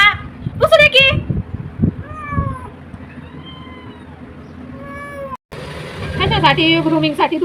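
A cat meows several times in short, rising and falling calls, close by, with people talking and laughing around it.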